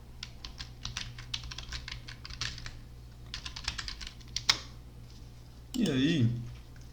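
Rapid, steady clatter of typing on a computer keyboard while entering a spreadsheet title, close and fairly quiet, in bursts that pause briefly before a short mouse-like rustle at the end.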